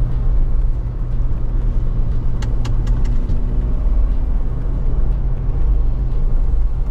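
A GWM Tank 300 SUV travels slowly along a village road, with a constant low cabin rumble of engine and tyres that holds steady throughout and a few brief light clicks midway, without any speech.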